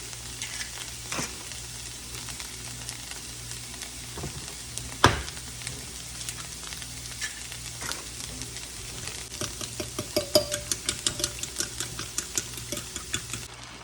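Eggs and butter frying in a pan, a steady sizzle with scattered pops and spatter and a loud utensil knock near the middle, clicks quickening toward the end.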